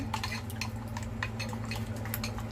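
A spoon scrapes and clinks against a cooking pot while salted food is stirred, a steady run of light metallic taps and scrapes over a constant low hum, close by with no talk.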